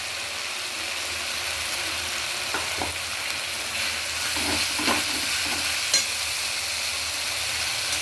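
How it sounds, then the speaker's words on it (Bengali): A spice paste for a Bengali fish curry fries hard in a pan, giving a loud continuous sizzle up close, with soft scraping and knocking from steady stirring. "এই জন্য সবসময় উচিত ভালোভাবে মশলাটা কষিয়ে নেওয়া"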